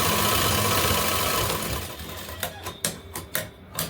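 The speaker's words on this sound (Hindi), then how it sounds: "आर्मोल पे हम डबल सिलाई लगाते हैं" A sewing machine double-stitches the armhole of a kurti, first a fast continuous mechanical whir, then several short, sharp stitching bursts close by.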